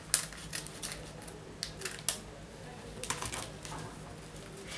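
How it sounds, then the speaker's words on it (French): Sharp, sporadic snips of scissors cutting paper, close and fairly quiet, spaced out over a soft background hum. "je vais le découper, j'ai pris la paire de ciseaux exprès"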